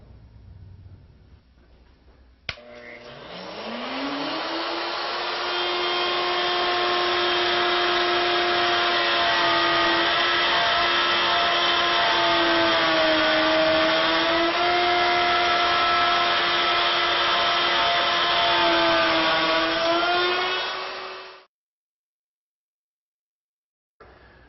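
A plunge router cuts a dovetail in wood against a template, a loud steady high whine that spins up sharply, holds for about twenty seconds with slight pitch wavers under load, then stops into silence.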